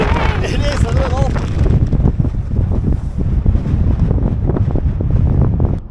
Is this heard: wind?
yes